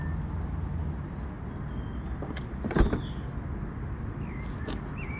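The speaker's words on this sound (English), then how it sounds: "show you this automatic tailgate, which there is a button from the inside as well" Powered tailgate on an MG HS Trophy automatic closing on its own: a low steady motor hum with faint whirring tones, ending in one sharp latching thunk midway before the drone resumes.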